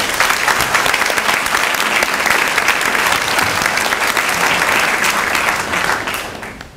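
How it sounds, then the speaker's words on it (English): Applause from the audience at a Mayor's Committee for Persons with Disabilities awards ceremony, loud sustained clapping that holds steady for about six seconds before fading out. "Let's give them a round of applause."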